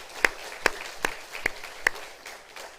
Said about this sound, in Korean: 우리 한번 박수하겠습니다.